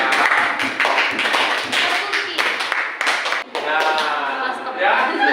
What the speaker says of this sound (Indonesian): Ya, tepuk tangan buat siapa namanya? Eva.